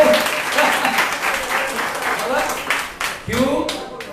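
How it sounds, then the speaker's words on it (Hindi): A Sunday church congregation claps loudly and continuously, the dense applause rising and falling briefly around the end while voices call out over it. "हाँ, तो ताली दो उसको, ले ठोको ठोको ताली"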